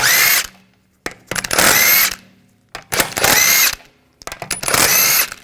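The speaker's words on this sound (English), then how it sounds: "Take these lug bolts out." A power tool whirs in four short bursts while pulling rear wheel lug bolts with a 17mm socket on a 2007-2013 BMW 328i, each burst loud and close with brief quiet gaps between.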